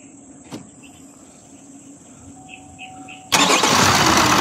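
A Chevrolet Colorado 2.8 engine cranks and catches, firing up abruptly into a loud, steady broadband roar after a quiet stretch of crickets chirping and faint distant sounds.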